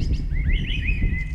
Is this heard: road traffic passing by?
no